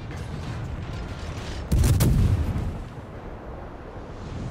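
Naval guns boom in World of Warships, a single heavy blast rising abruptly from low background rumble and fading over about a second.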